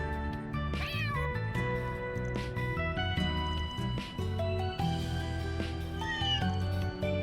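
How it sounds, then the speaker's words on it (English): Cats meow in the video game Trails Through Daybreak 2, a few short mews rising over a melodic game soundtrack that plays on throughout, with no speech. "there's the kitties."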